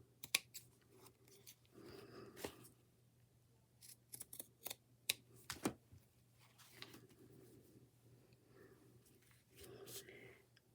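Scissors trim coffee filter or tissue paper in quiet, close snips, scattered crisp cuts with soft rustling between them.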